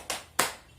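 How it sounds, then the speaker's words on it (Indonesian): A group of women does a 'tepuk semangat' cheer clap, two sharp, close hand claps in quick succession. "sebelumnya kita tepuk semangat dulu"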